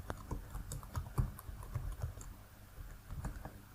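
A GraphQL mutation is typed on a computer keyboard, a steady run of quick, soft key clicks with brief pauses, close but quiet and with no voices.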